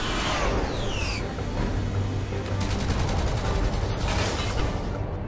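Combat gunfire in the Iron Man video game, a dense and loud barrage of rapid shots and rumbling blasts that rolls on without pause.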